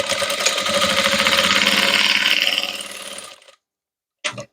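Sewing machine stitching invisible boning into a corset, a fast steady close-up needle chatter lasting about three seconds, then winding down and stopping, followed by one brief restart burst.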